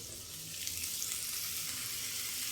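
Cut cauliflower and potatoes sizzling steadily in a pan of onions, salt and turmeric for a Bengali fulkopi alu bhaji, a continuous close, bright frying hiss with no talk.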